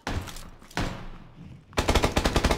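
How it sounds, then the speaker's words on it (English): Gunfire in a battle royale video game, several loud bursts including a rapid automatic volley of about eight shots, heard alone. "Nope, shots from the south."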